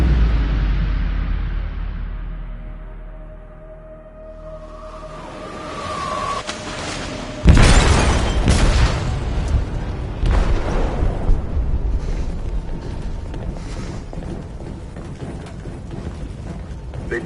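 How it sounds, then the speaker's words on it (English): A large explosion aboard a ship in the video game Detroit: Become Human: a quiet, tense stretch, then a sudden loud blast followed by long rumbling, crackling debris and churning noise that continues to the end. "They detonated an explosive in the hold."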